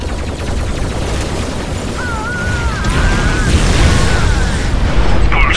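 Tau ordnance multi-driver artillery pounds away in Dawn of War Soulstorm, a loud fusillade of booming blasts and crackling bursts rolling over a battlefield, with a rising rumble toward the end.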